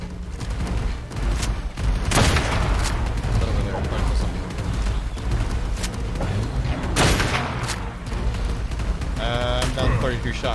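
Rapid gunfire and booming shots in the modded survival game ARK: Survival Evolved, loud and dense throughout with repeated bursts, mixed with game effects and a voice talking over it.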